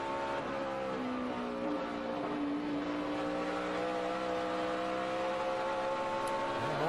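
A race car's engine at the 2012 Sargento 200 road race drops in pitch on a downshift into turn 5, then climbs again as it pulls away. The engine note is loud and sustained, with a faint squeal near the end.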